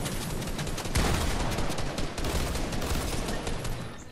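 Pistol fire in Fortnite, rapid repeated gunshots rattling in quick bursts over a few seconds, loud and close, with no talking over the shots.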